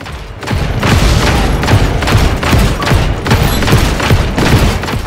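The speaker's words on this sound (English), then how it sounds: "Fucking explosions" Loud, continuous rumbling explosions and booms in the video game Just Cause 3 roll over one another in quick succession, dense and heavy throughout with no pause.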